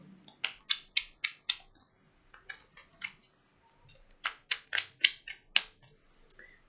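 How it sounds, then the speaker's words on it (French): Tarot cards are shuffled in two bursts of crisp, quick riffling snaps close to the microphone, separated by a short quiet pause. "il faut mélanger un peu le jeu"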